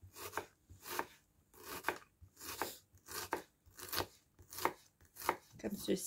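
A knife slicing shallots and white onions on a board, a close, even series of crisp chopping strokes at a steady rhythm, about two per second, with no talking.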